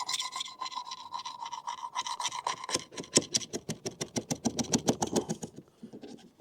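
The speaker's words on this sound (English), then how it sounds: "I just thought I'd give it a quick scraping to see" Old paint scraped off a yacht hull with a hand scraper, a close run of rhythmic rasping strokes that grows faster and sharper partway through, with no talking.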